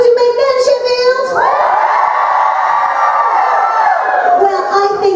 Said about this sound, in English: Whoop and cheer